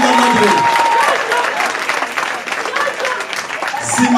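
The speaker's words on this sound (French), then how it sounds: "On applaudit Blondine la Madré." An audience applauds a performer, Blondine la Madré, on stage at the Magic Mirrors, with sustained clapping that thins and swells over a few seconds, and a voice briefly heard over it.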